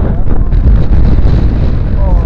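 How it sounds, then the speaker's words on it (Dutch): Strong wind roars and buffets the microphone in a continuous low rumble at an outdoor amusement park, loud and steady throughout with no clear speech. "Het is wel veel wind. Heel veel wind."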